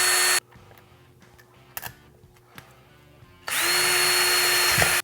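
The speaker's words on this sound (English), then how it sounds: "Next I'm going to drill a couple holes for the screws to go in here." A power drill whirs loudly and steadily at the start while drilling screw holes for a homemade dipole antenna, then runs again for a longer stretch at the end, with quiet clicks in between.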